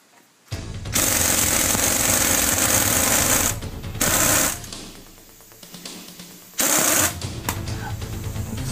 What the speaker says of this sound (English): Now I'm gonna pull the harmonic balancer off the crankshaft.